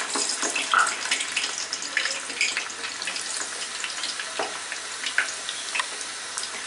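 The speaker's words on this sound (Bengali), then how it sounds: "অর্ধেকটা দিলাম, দিয়ে এখন এগুলাকে আমার ফাইনাল ভেজে নিতে হবে।" Potato french fries deep-frying in very hot oil over high flame, a loud, close, even rushing hiss like running water with a few brief bubbling bursts, continuous and without any talking.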